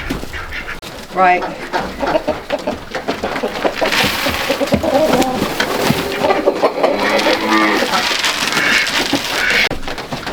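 Chickens cluck and coo on a farm at feeding time, a busy close flock with bursts of calls, while someone talks over them throughout.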